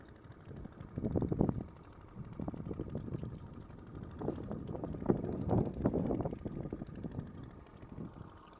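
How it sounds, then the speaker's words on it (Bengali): Strong wind sweeps over the Brahmaputra river during hilsa fishing, faint gusty buffeting that swells and fades in uneven bursts against a quiet background. "খুব বাতাস আসতেছে"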